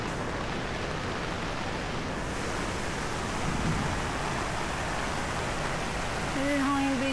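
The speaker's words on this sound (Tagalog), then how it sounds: "Yung problema, bumuhos ang ulan." Heavy rain pours during a day tour in Taiwan, a dense, even hiss of water that holds steady throughout, with a voice briefly rising near the end.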